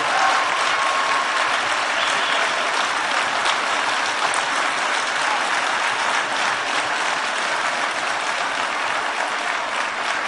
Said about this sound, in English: don't clap all my time away